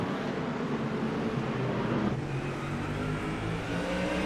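Ford Mustang GT3 race cars battling side by side at Okayama circuit, a continuous distant engine roar with slight shifts in pitch, steady and fairly faint throughout.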